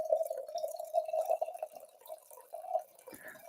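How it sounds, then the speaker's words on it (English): Wine poured into a glass, a close liquid trickle with a steady gurgling tone and small splashes, tapering off near the end. "So let's pour a little more wine."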